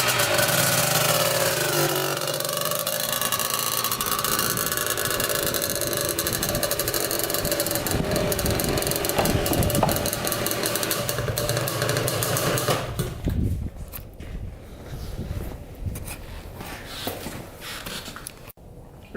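A Honda TRX250R quad engine running loud and close, with a rough, buzzing, revving note that holds steady for about thirteen seconds and then drops to a quieter, sputtering idle.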